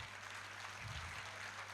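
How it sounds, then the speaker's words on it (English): An audience at a school annual day celebration claps after a performance, a faint, even spatter of many hands heard at a distance over a low hum. "Please give them a big round of applause."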